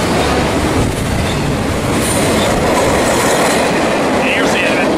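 A short freight train hauled by five engines rolls past close by at Fullerton, a loud continuous roar of wheels and rattling cars with occasional squeals, filling the whole clip.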